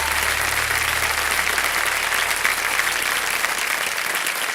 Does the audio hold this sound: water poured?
no